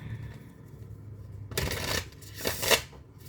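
Close, crisp shuffling of an oracle card deck comes in two brisk bursts after a quiet start, with papery flutter and snapping edges.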